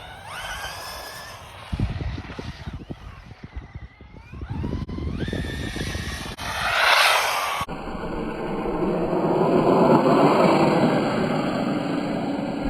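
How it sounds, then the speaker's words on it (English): A DeeRC 1217 RC truck drives and slides over cold ground outdoors, its electric motor whining and rising in pitch, with crunching and rumbling from the tires and shifting loudness as it passes. "But I love that it is sliding. You can kind of drift it around a little bit."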